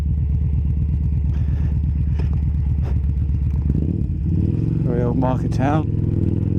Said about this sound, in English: I'm sure my exhaust pipe is going to make us very popular